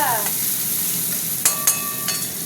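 Onions frying in plenty of hot oil in a home kitchen pan, a steady close broadband sizzle with a few sharp clinks of a stirring spoon against the pan near the middle and end.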